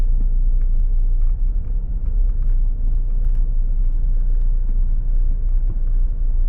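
A motor tricycle idles and runs close by on a street in Angeles, Pampanga, a steady low engine rumble holding evenly throughout with no talk.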